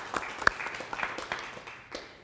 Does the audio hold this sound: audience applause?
yes